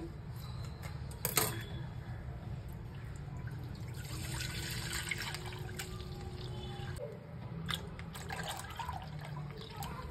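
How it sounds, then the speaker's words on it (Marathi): One litre of milk pours into a pot holding a little water, a steady trickle and splash running under faint household background noise. "आणि आता हे दूध मी सगळं ओतून घेते याच्यामध्ये."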